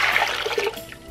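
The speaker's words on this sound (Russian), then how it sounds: "Дальше в казан отправляются опять 3 литра фильтрованной воды" Three litres of filtered water poured into a kazan for a mushroom marinade, a steady splashing trickle that eases off toward the end, close and alone.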